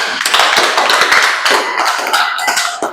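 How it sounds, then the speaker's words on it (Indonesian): A group applauds after a Code Blue resuscitation simulation in a hospital training session: dense, steady clapping from several people sustained for about three seconds, fairly loud and close, with no clear talk. "beri aplaus buat Anda semuanya"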